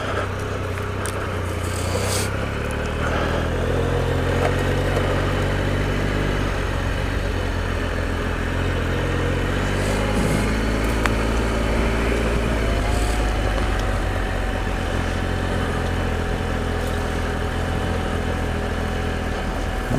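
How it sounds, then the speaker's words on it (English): A Triumph Explorer XCa motorcycle engine runs at a steady, loud low rumble, idling or ticking over without added throttle, with a faint tonal whine rising partway through and no talking. "Just let the bike engine, you know, do its thing, as it were."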